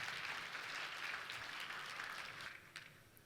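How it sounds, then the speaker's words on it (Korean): An audience applauds to welcome a presenter onto the stage at a Samsung Bixby Developer Day 2019 session. The clapping is a dense, steady wash that carries on for the whole stretch, easing off slightly near the end. "박수로 맞이해 주셨으면 감사하겠습니다."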